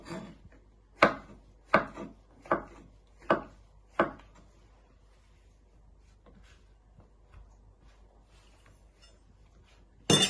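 A knife slices mushrooms into little pieces for savory mince, giving five sharp, evenly spaced chops on a board close by, then a quiet stretch with faint handling noises and one last knock at the very end.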